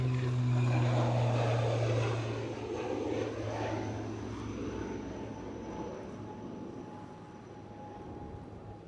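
A Loganair aircraft departs Edinburgh airport for Kirkwall in the evening, its engine drone loud and steady at first, then easing into a fainter, sustained roar as it moves away, with no talk.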